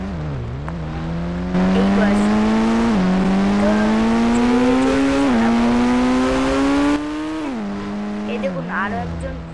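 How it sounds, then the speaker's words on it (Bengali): A motorbike rides along a village road near hills, its engine holding a loud, steady drone whose pitch climbs and dips with the throttle, close by throughout while a voice talks over it. "একজন বাইক চালাচ্ছে"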